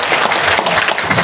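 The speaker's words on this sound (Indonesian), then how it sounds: "Beri tepuk tangan untuk beliau." Dense, loud applause from an audience at a Heroes' Day dialogue event in Surabaya, steady and continuous throughout with no voices over it.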